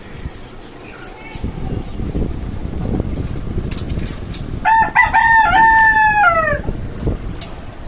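A rooster on a rooftop chicken farm atop a five-storey house lets out one loud, close crow midway through, over windy outdoor background noise and faint clucking.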